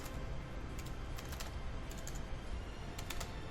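Faint computer keyboard typing, a few short clusters of soft key clicks over a steady hiss, heard close and quiet.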